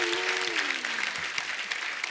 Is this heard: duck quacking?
no